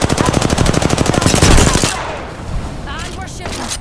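Sustained rapid automatic gunfire in the shooter Apex Legends, a loud rattling stream of shots for nearly two seconds before cutting off into quieter game sounds and a voice.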